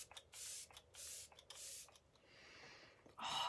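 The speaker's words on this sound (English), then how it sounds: "I'm gonna go in with Arbonne Let It Set Setting Spray" Arbonne Let It Set setting spray misted from a pump bottle: four short, crisp hissing bursts in quick succession, close and clear, followed by a softer lingering hiss and a brighter final burst.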